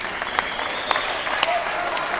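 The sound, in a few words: tennis crowd applauding at US Open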